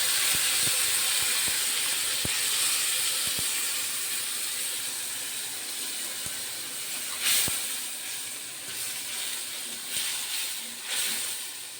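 A spice paste of garlic, onion and tomato frying in hot oil gives a steady, loud hiss throughout, with scattered crackles and a few sharper spits near the end and no voices.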